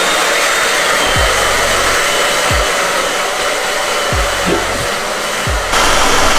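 A hair dryer blows steadily and loud at close range, heating Honda Civic tail lights to loosen the lenses, with a few soft low thumps underneath and no talking.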